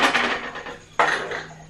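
Clay cooking pot shifted on a stove, two scraping knocks about a second apart, each followed by a brief rattling scrape, close and moderately loud with no talk.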